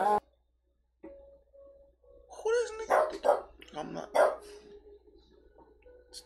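A small French bulldog barks in a quick burst of sharp yaps near a door, close by, with a person talking over and between the barks.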